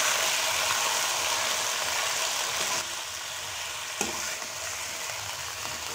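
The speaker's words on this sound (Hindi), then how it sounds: "अब इसमें चिकन डालेंगे और चिकन को उस वक्त तक मैं पकने दूंगी जब तक इसका कलर थोड़ा सा चेंज नहीं हो जाता।" Chicken pieces sizzle in oil in a karahi pan, a steady loud frying hiss that softens slightly midway, with a brief clink of a utensil stirring against the pan.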